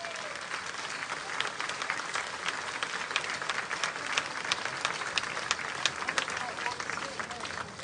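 Distant, quiet applause from an outdoor crowd at a Chișinău days festival in Suceava, a steady wash of clapping with a few sharper claps standing out and voices mixed in.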